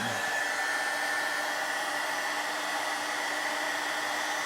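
Heat gun blows a steady, even hiss and whir, close and continuous throughout, while shrinking heat shrink tubing on wiring for LED light bars on a Honda Pioneer 1000.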